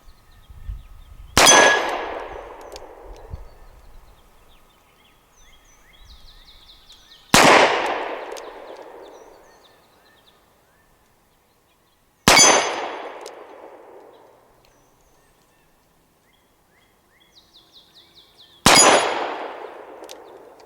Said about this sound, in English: Let's give it a try on the steel plates in single action mode just to see how it does